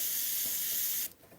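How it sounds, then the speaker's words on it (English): An Iwata airbrush sprays Createx paint onto a Claybord panel for a red Corvette Stingray painting, a close, steady hiss of air that cuts off abruptly after about a second. "I could spray on here"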